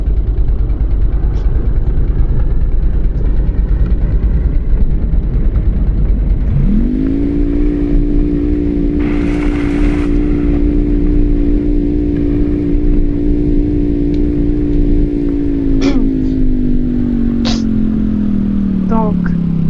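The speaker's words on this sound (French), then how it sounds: "mais j'accélère là à fond, à fond" Car engine in a survival video game accelerating at full throttle, a loud sustained droning rev that rises sharply and holds steady before sagging slightly at the end, with a voice talking over it.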